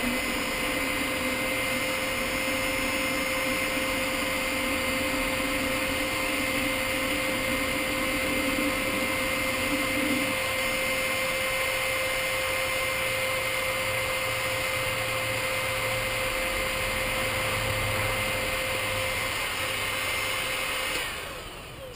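A hot air blower heats the mouth of a plastic water bottle, making a loud, steady whirring roar with a constant hum that runs close and unbroken for over twenty seconds, with no talking.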